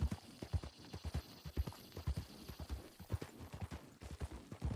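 Horse hooves clip-clopping steadily in a Red Dead Redemption 2 roleplay, an even, fairly faint walking rhythm of many hoof strikes with no talk.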